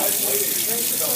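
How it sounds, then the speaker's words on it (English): Tap water running through an airbrush paint bottle for cleaning, a steady hissing rush of flowing water throughout, close and fairly loud. "You just want to run water through the bottle."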